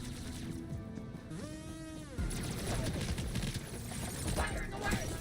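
Gunfire in the shooter video game High On Life 2 breaks out as rapid, crackling bursts after a sweeping whine, with a voice talking over the steady, moderately loud barrage.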